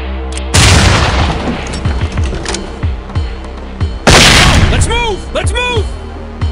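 A flashbang grenade goes off during a SWAT 4 room breach, two loud sharp bangs several seconds apart, each followed by a ringing decay and crackle, with voices and game effects around them.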